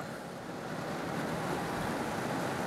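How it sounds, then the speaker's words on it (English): Heavy rain pouring down at a reservoir during a fishing outing, a loud, dense and steady broadband hiss with no letup and no voices. "Nope, now it's pouring."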